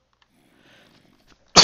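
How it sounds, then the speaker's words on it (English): A person gives a single sudden, loud sneeze that bursts out at the very end after near silence and is cut off abruptly. "I have one of the weirdest coughs sneezes, I think."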